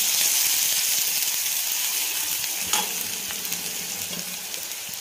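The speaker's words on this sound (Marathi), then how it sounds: "तेलामध्ये छान परतून घ्यायचं, कारण कच्ची मिरची आहे ही" Raw green chillies frying in hot oil, a loud steady hiss and crackle close by with a couple of brief stirring scrapes, slowly easing in intensity.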